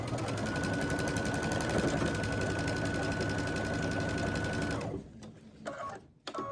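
A sewing machine runs steadily for about five seconds stitching a quarter-inch seam on quilt block pieces, loud and close, then stops, leaving a few soft handling clicks and rustles.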